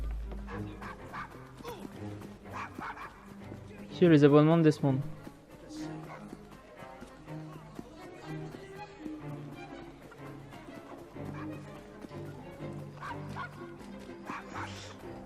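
A dog in Assassin's Creed Syndicate lets out a short burst of yipping barks, loud and close, over steady game music, with a voice talking before and after.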